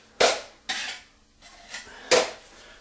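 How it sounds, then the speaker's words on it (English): Metal scraping and knocking of a drywall mud pan being cleaned out during a corner bead patch job, three sharp clanks with softer scrapes between, close and clear with no talking. "I'll clean out my pan a little bit"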